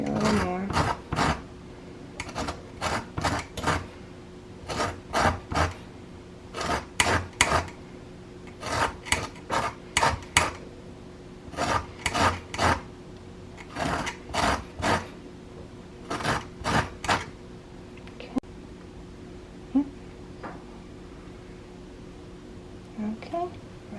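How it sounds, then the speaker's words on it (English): Lemon zest is grated off a whole lemon with a zester for a blueberry pie, giving a rapid run of short, dry rasping strokes in bursts, close and fairly loud, with quiet pauses between them. "As you can see, it's getting the lemon zest off."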